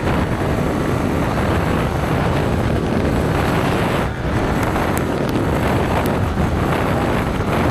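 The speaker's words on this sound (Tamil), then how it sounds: "பாருங்களா, காற்று தள்ளுதுடா." Strong wind buffeting a microphone while riding outdoors, a loud, steady roar of rushing air that covers the whole stretch without a break.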